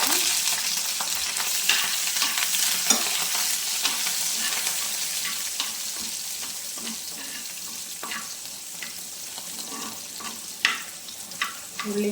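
Shallots and curry leaves sizzle loudly in hot oil for a Kerala fish curry, a continuous crackling fry broken by sharp pops and occasional stirring clatter.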